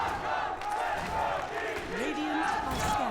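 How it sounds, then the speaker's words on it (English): Crowd at a Dota 2 esports tournament, Team Falcons against Gaimin Gladiators, chanting in a steady rhythmic roar that fills the whole stretch at close, loud level, with a voice rising over the chant near the end. "Crowd getting into it. You're going to hear a lot of Falcons chants throughout this tournament"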